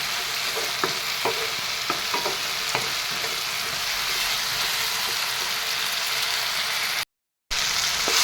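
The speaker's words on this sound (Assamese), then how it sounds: "যেতিয়ালৈকে এই বিলাহীখিনি নৰম হৈ নাযায় তেতিয়ালৈকে মটৰৰ লগত একেলগে ভাজি দিওঁ" Steady sizzling of tomatoes and green peas frying in a pan, with a few sharp clicks of a utensil stirring early on; a brief silent gap near the end.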